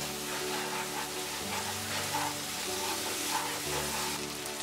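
Raw banana peel bhorta with mustard paste sautéing in a pan, a soft continuous sizzle with faint stirring scrapes running steadily throughout, close and moderately quiet, no talking.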